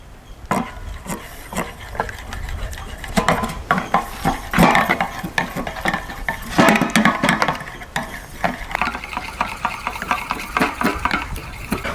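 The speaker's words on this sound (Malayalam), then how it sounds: "നമുക്ക് നന്നായിട്ട് മിക്സ് ചെയ്ത് കൊടുക്കാം." Spoon scraping and clinking against a bowl while tomato, egg and salt are mixed, with irregular close taps and stirring scrapes running steadily throughout, no talking.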